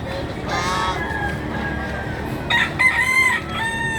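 A rooster crows loudly nearby, its drawn-out call rising and breaking, with other fowl clucking amid a busy outdoor background.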